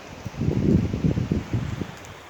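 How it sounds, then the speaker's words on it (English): Strong wind gusts blow through trees beside a road, a rough rustling roar that swells and fades over a couple of seconds, close to the microphone. "The wind is blasting so hard, this tree wants to pop out right in front of me."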